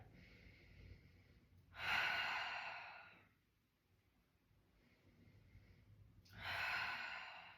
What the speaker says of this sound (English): Try not to hold your breath here in this shape, but continue to breathe inhales and exhales.